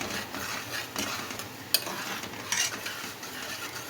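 A spoon steadily stirring yogurt and onions in a pot over high heat for mutton pulao, with a soft sizzle under repeated scraping and a few sharp metallic clinks.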